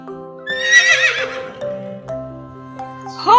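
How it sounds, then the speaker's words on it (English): A horse lets out a loud, quavering neigh that trails off, with soft music playing underneath. "Horse. Horse."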